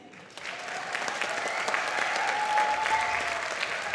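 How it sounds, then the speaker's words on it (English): A school winter concert audience applauds the fourth grade band: a steady wash of clapping that swells after the first half second and stays full and even, with a few faint voices underneath. "Let's get one more round of applause, not for me,"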